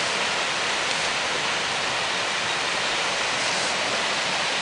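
Cinderford Brook rushes in flood as a loud, dense, continuous roar of churning water, steady and close throughout with no voices.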